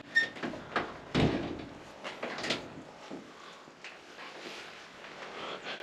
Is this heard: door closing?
yes